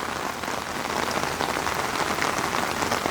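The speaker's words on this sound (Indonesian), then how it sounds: "Hujan-hujan Pade ya. Makin deras." Heavy rain pours steadily near a canal floodgate, a dense, continuous hiss of drops hitting surfaces that holds at an even, loud level throughout with no voices.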